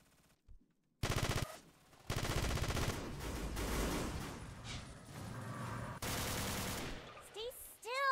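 Video game gunfire with rapid automatic bursts and repeated shots, loud and close, in several sustained volleys with short gaps between them.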